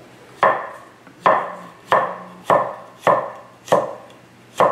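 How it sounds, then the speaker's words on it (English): Garlic cloves are sliced from the side with a kitchen knife on a cutting board while cooking elk steak, giving six evenly spaced crisp chops close by, each followed by a brief ringing decay, with no voices. "I'll slice the garlic, and how I like to slice the garlic is from the side"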